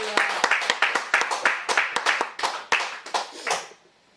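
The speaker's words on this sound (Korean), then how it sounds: "우리 큰 박수로 함께 응원 드리겠습니다" A church congregation claps together in quick, sharp, fairly regular bursts for about four seconds, close and loud, and the clapping fades out abruptly at the end.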